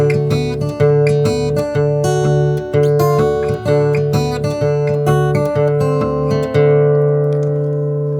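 An acoustic guitar in drop D tuning plays a country blues figure with an alternating thumb bass under a melody on top, close and full, with a steady thumping low note and ringing chords fading at the end.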